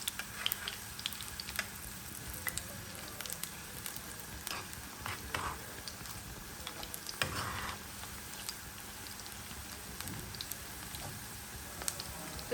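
Potato and onion pakoras fry in hot oil with a steady, crackling sizzle and scattered pops, heard close and alone throughout.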